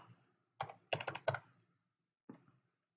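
Keystrokes on a computer keyboard while a message is typed into an editor, a few quick clustered taps followed by a pause and a final short burst, close and fairly quiet with no talking.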